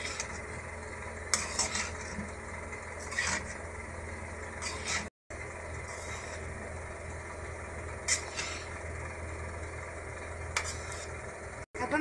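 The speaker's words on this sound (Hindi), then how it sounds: "अब इसको हम अच्छे से मिक्स कर लेंगे।" Rice is stirred into veg pulao in a cooking pan, giving a few scattered scraping strokes and light clinks that stand out over a steady low hum.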